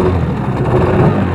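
A used Suzuki DT 9.9 AS outboard motor on a Nordik 330 HD boat runs on the water with a loud, steady, close engine drone and no speech.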